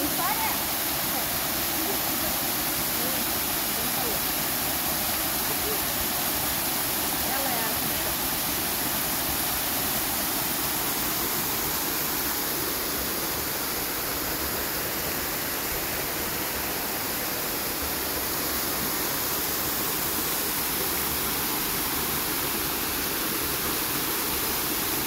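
Ayn Tobruk waterfall in Salalah rushing in a steady, dense roar of falling water that stays loud and unbroken throughout, with no other sounds rising above it.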